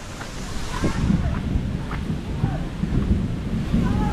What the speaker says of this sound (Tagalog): umuulan, nakakulog